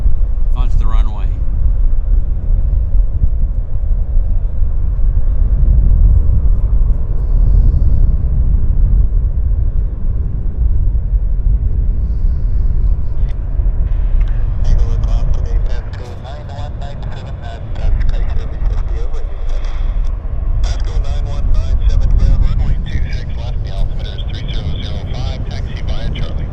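A United Airlines jet taxiing onto the runway at Vancouver International Airport gives a deep, steady engine rumble under close, continuous talking, with a brief dip midway before the drone returns.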